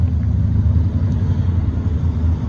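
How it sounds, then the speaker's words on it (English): A northbound Union Pacific boxcar freight train passes at an FM 1626 crossing in south Austin, Texas, a steady loud low rumble filling the whole stretch without letting up. "There goes our Northbound Union Pacific"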